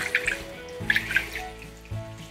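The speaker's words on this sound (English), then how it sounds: "And pour this right directly inside the machine with the flavor." Water ice mix poured straight into a flavor machine, a splashing gurgle with bright liquid spatters in short bursts and a pause before the pour resumes.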